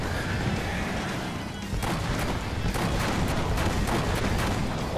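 Dense, continuous gunfire in the game Brütal Legend with sharp repeated shots and crashing impacts, loud and unbroken throughout.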